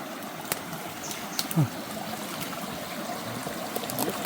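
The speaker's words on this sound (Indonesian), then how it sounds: "Nyebrang sungai lagi." A clear forest river trickles and gurgles steadily around someone wading across, with a brief splash partway through and faint voices in the background.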